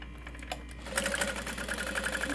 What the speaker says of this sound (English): you can top stitch this at 1/8, or you could top stitch it at 1/8 and 3/8